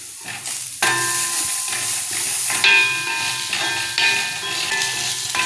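Cashew nuts fry in a pan with a little coconut added, a steady close sizzle and hiss with intermittent stirring clinks and scrapes after a quieter opening moment.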